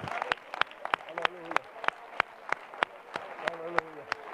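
A church congregation at a conference claps hands in a steady, regular beat of sharp, evenly spaced claps, with people singing or calling out underneath.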